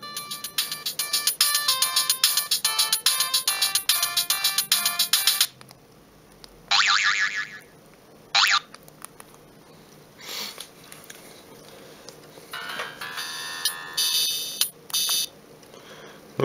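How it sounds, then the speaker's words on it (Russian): A Siemens M65 mobile phone plays several short ringtone melodies in turn: a bright, rapid electronic tune at first, then separate brief bursts of beeping tones with quiet gaps and soft handling noises between them. "Есть несколько вариантов сигналов."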